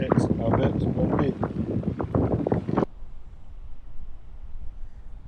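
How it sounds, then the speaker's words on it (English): Strong coastal wind on a beach in Ayr buffets the microphone in loud, gusty rumbles, with a person talking over it before the noise drops to a softer steady wind. "it's actually very, very windy"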